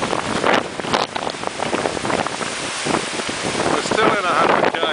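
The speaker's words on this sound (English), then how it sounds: "This wind hasn't let up." Strong cyclone winds from Cyclone Yasi, still blowing in the 2011 aftermath at Picnic Bay on Magnetic Island, Australia, batter the microphone in a loud, continuous roar with gusty buffeting surges.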